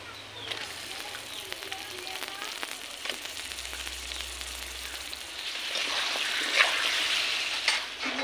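Washed chicken pieces go into a pan of fried onions, producing a continuous sizzling hiss that swells louder toward the end, with scattered stirring clatter and a voice in the background.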